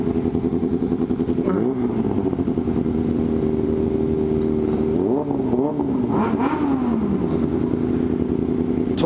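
Ducati Street Fighter 850 motorcycle exhaust rumbling loudly and steadily up close, with a few sharp throttle blips that rise and fall in pitch.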